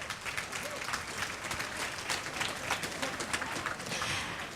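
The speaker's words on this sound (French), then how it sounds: "Regardez, on peut les applaudir quand même, hein?" Steady applause from an audience at a commerce award ceremony, dense and continuous clapping with a faint crowd murmur underneath, holding at an even level throughout.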